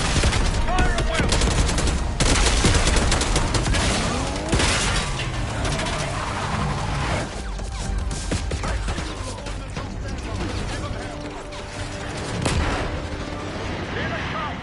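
Heavy gunfire fills a video game battle at an assault on a gate, with dense overlapping shots, machine-gun bursts and booming explosions, loud and continuous throughout.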